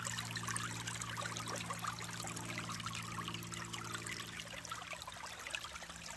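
Water running through a gold prospecting sluice in a creek at dusk, a continuous rushing trickle and splash with a low steady hum beneath, moderately loud and unbroken.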